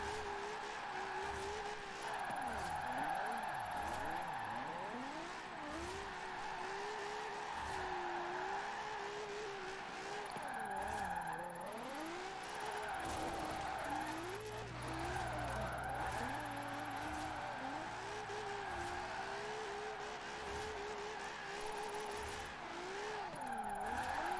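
A Nissan 370Z drifts in the Forza Horizon 4 video game, its engine droning and revving continuously while the tires squeal and skid through long slides, with a heavier thump partway through.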